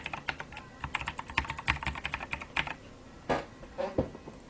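Rapid bursts of keystrokes on a computer keyboard as an administrator password is entered during Windows Server 2016 Nano Server setup, close and distinct, with brief pauses between clusters of presses and no talking.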